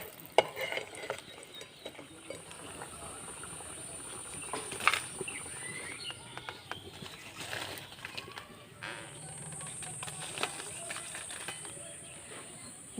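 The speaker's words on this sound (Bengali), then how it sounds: "এইভাবে এক এক করে সব খাজাগুলো ভেজে নেব" Small khaja sweets deep-fry in oil with a soft, continuous bubbling sizzle, quiet and fairly distant, with occasional light clinks and faint background chirps.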